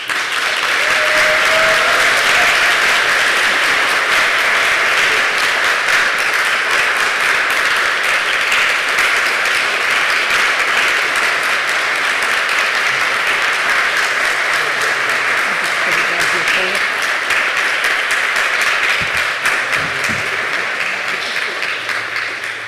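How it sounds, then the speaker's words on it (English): A large audience applauds steadily and loudly for over twenty seconds at an award ceremony in Toronto, Ontario, the dense clapping holding an even level before tapering slightly near the end. "Thank you very much for all of the applause"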